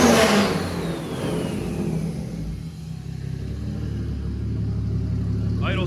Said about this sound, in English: Just started the car up, and I'd say unfortunately it runs great again.